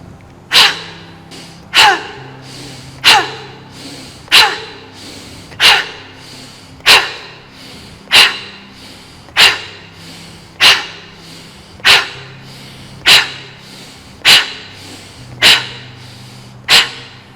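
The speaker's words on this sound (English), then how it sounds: "deep in your abdominals, make the ha sound" Forceful abdominal "ha" exhalations from a breathing exercise: about fourteen sharp, loud breath bursts at an even pace, each followed by a quieter inhale, close and without speech.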